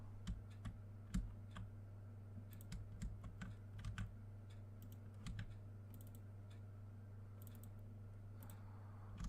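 Rapid clicking while playing the strategy game Evil Genius, crisp taps in irregular bursts and single clicks over a steady low hum, close and fairly quiet, with no talking.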